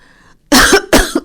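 Two harsh coughs burst out close by, one after the other, following a brief quiet murmur.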